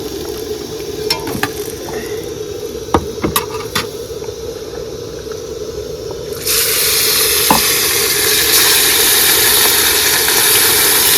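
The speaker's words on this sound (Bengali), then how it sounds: "প্রথমবারে মাছগুলো ভাজা হয়েছে, এবার তুলে দিই।" Fish sizzles steadily in hot oil, with occasional clinks. The frying hiss swells sharply louder about halfway through and stays strong.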